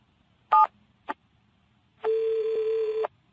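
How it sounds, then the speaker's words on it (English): A telephone being dialed, with two short separate beeps followed by a steady, clear tone that holds for about a second in an otherwise quiet room. "Mr. Williams picked up the phone and dialed his home number."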